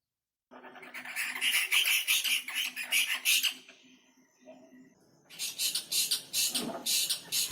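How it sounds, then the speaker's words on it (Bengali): A spotted owlet gives rapid, chattering calls in two bursts, fairly close and clear against a quiet outdoor background with no talking. "এপাশটাতে একটা খুরুলে পেঁচার ডাক আর এপাশটাতে আর একটা"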